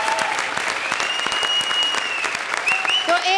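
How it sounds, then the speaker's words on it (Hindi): Studio audience on a comedy show clapping loudly and continuously, thick sustained applause with a few high whistles or cheers rising through it. "तो एक बार पंकुश की टीम, मंत्रा, राजीव और पूर्वी के लिए जोरदार तालियां"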